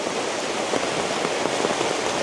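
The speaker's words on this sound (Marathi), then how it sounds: "अरे पावसाला सुरुवात झाली" Steady, dense hiss of heavy rain pouring down continuously in a Maharashtra village, close and loud, with no voices.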